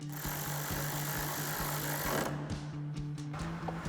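Ratchet or power driver turning an 8mm socket to tighten a bolt during a Ford F-150 headlight install, a rapid rhythmic buzzing clatter under a steady hiss, close and fairly quiet, easing off near the end.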